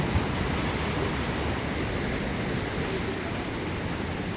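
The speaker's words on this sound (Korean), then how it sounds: "오! 저 파도 봐." Night sea waves at Mukho harbour, a steady, loud roar of surf washing continuously without clear breaks.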